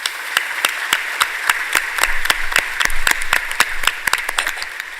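A conference audience at a disaster risk reduction event applauds its panelists with a dense burst of steady clapping that holds at an even level throughout, with a faint murmur of voices underneath.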